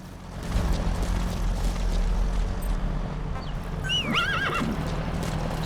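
A horse in Metal Gear Solid V: The Phantom Pain gives a clear, loud whinny over steady clopping hooves and a continuous low rumble of background ambience.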